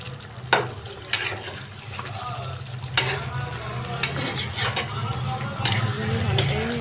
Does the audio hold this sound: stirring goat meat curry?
yes